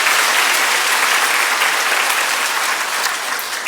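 Church congregation claps together in a dense, loud, sustained round of applause that fills the sanctuary and fades slightly toward the end.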